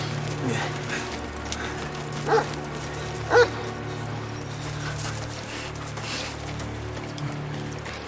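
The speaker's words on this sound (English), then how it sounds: "Dogs will pick up his scent." Dogs give two short sharp barks or yips over a low constant rumble of background noise, with a voice talking now and then.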